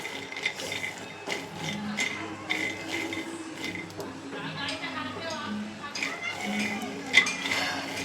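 Peanuts dry-roasting in a pan as they are stirred, with light rattling clinks and scrapes of the nuts and utensil against the metal while someone talks over it.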